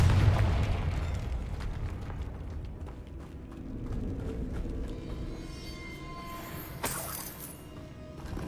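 Confringo spell blast in the Hogwarts Legacy video game: a loud booming burst at the start that rumbles and fades, with a second sharp crackling pop later on.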